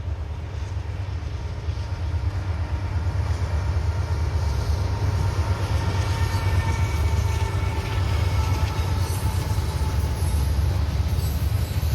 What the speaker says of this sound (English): we finally saw an NS train going westbound that we didn't see in Crescent